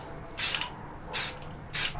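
Aerosol spray cans hiss onto bare scratched metal inside a Sprinter van during a window install: three short, close bursts of spray, each under half a second, with quiet pauses between.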